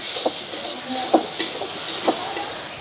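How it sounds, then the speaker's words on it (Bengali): Green chili paste sizzles steadily in a hot pan for a Bengali potol dolma, with a few sharp scraping stirs and clicks of a utensil rising over the even frying hiss. "এটা কাঁচা লঙ্কা বাটা এটাকে দিয়ে দেবো এটাকে সুন্দর করে একটু ভেজে নেবো"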